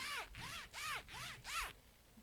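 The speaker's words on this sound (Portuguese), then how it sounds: "Mas eu tenho um zíper." A clothing zipper on a lecturer's outfit is pulled back and forth in five even, sweeping strokes, each rising and falling. It is fairly close and clear, with no talking over it.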